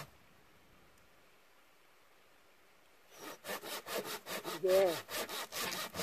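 A hand saw cuts firewood after three seconds of quiet, its back-and-forth strokes rasping loudly in a quick, even rhythm; a brief spoken word is heard near the start.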